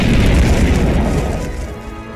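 A fire attack in an Undertale fan animation: a loud, deep fiery blast booms and rumbles, then fades away over a couple of seconds.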